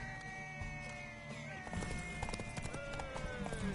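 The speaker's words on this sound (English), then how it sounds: "Want that horse, don't ya?" Hooves clip-clop steadily on a hard surface from a horse in The Witcher III, with a faint whinny and game ambience; a voice speaks briefly over the trotting.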